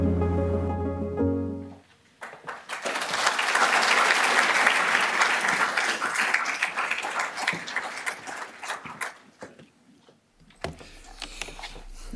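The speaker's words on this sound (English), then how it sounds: "Let's give another round of applause to everyone who contributed to those wonderful set of video" An audience at a memorial celebration of life breaks into sustained applause, rising to a full, dense roar of clapping and then tapering off, with a short burst resuming near the end.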